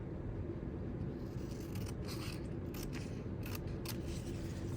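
Scissors trim planner paper in a few faint, quick snips heard over a steady low background hum, close but quiet.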